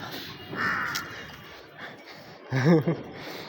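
Crows caw in short harsh bursts while being fed, a few calls near the start and a louder cluster near the end, over faint background noise and brief murmuring.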